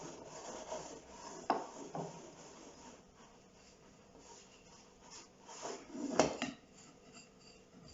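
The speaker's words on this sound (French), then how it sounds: "je vais les mélanger et les pétrir pendant, comme c'est à la main, pendant 7 à 10 minutes." Bread dough for a baguette being worked by hand, a soft rubbing and slapping with occasional louder thumps and squelches as the sticky mass is pushed and folded, close by with no talking.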